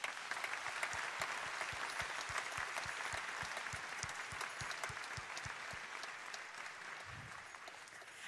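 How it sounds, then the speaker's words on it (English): High school Christmas concert audience giving a long, steady round of applause, dense clapping throughout with a regular low thump under it, somewhat distant and quiet. "Let's give them a round of applause."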